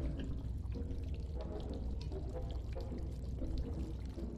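Steady running water in the Polymerikum video game, a continuous broadband pour and trickle that fills the scene evenly from start to finish with no talking over it.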